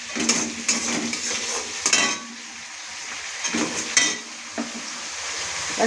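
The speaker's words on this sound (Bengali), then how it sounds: "এদিকে পার্শে মাছগুলো ভাজা হচ্ছে" Parshe fish frying in hot oil in a pan in a home kitchen, with a steady sizzle broken by sharp clinks and scrapes of a utensil against the pan.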